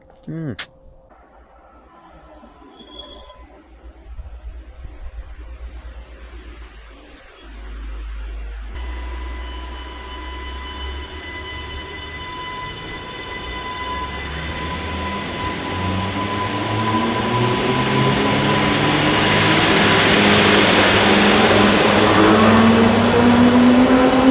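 A Class 230 train pulls away from Hawarden Bridge station nearby, its engine and wheel noise steadily rising in loudness and pitch, with a brief electronic tone early and people talking.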